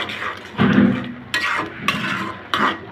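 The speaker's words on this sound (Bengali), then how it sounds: "ভালো করে মিশিয়ে নেব।" A spoon stirs and scrapes carrot halwa with sugar in a metal pan, making several distinct bursts of clattering and scraping with short pauses between them.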